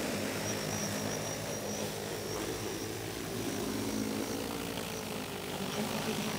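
An EAVision J100 agricultural spray drone lifts off in a field, its rotors giving a steady, loud, broadband whirring drone that holds throughout without pause.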